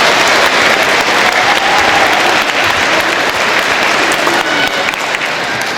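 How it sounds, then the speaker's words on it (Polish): A church congregation at a Three Kings parish celebration in Wrocław applauds the winning nativity scene, made of pasta. The clapping is loud, dense and sustained from many hands, continuing steadily throughout. "Tak jest, brawa"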